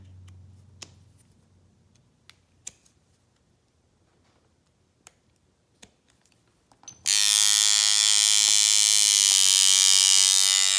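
A Mojoslider tattoo machine at a neutral setting with a standard needle starts up after a few quiet clicks and runs with a loud, steady, high-pitched buzz that continues to the end.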